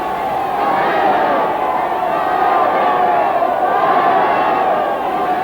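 A large crowd cheers in archival newsreel footage from Nazi-era Germany, a loud continuous roar of massed voices swelling in waves throughout.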